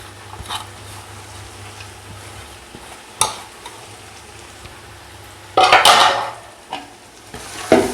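Coriander and mint go into a pot for a Muslim-style biryani, setting off a sudden loud burst of sizzling frying, with stirring and scraping clatters before and after. The sound is close, and no one talks.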